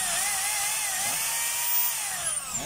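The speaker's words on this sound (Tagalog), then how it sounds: "gumagana na po yung drill niya. Hammer." A DeWalt D25032 rotary hammer drill runs steadily with a high whining motor tone that rises slightly in pitch near the end, close and loud, with no voices.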